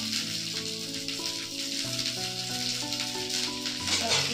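Cashews, almonds, raisins and green chillies frying in a pan, a soft continuous sizzle sitting under steady sustained music, with no talking.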